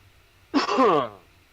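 A single short cough or throat-clearing burst from a person in a casual conversation setting, close and fairly loud, lasting about half a second against a quiet background.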